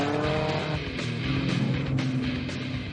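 Modified and tuned off-road trucks and buggies driving on rough terrain near Cedar City, Utah, with a loud, continuous engine roar that rises and falls as they rev, heard alone without talk.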